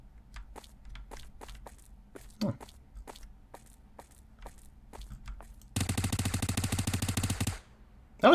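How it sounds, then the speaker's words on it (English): Gunfire from a weapon in a single-player battle royale video game: after scattered footsteps and a single shot, a rapid automatic burst rattles steadily for about two seconds, fairly light and thin, then stops. "The gunfire was way more piddly for this weapon than I was expecting"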